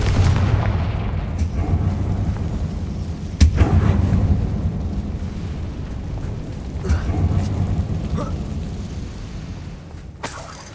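Confringo fire spell blasts in the Hogwarts Legacy video game, heard as loud booming explosive bursts, a big one early and another near the end, over a dense rumbling game soundscape.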